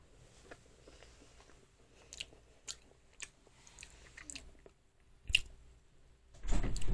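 Close, soft chewing of a green tea macaron with a chewy texture, with quiet moist squishes and bites spread across the clip and a louder burst of mouth noise near the end.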